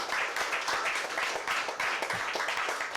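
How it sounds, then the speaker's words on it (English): Audience applause from a seated crowd at a talk, steady and fairly faint, with dense clapping throughout and no speech over it. "he deserves a very big round of applause for it"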